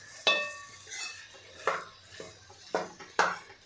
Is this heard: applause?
no